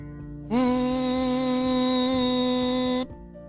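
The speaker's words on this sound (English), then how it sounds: "It's the sound of the blower!" A loud, steady mechanical drone with a strong pitched hum starts abruptly, holds for a few seconds, then cuts off.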